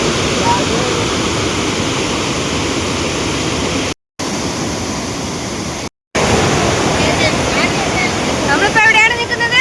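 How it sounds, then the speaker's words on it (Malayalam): Vazhachal waterfall at Athirappilly pours in a steady, loud roaring rush of broadband water noise that fills the whole stretch, broken only by two brief cuts, with faint voices surfacing near the end. "ഇതാ അങ്ങനെ നമ്മൾ വാഴച്ചാൽ വെള്ളച്ചാട്ടത്തിൻ്റെ അടുത്ത് എത്തിയിട്ടുണ്ട്"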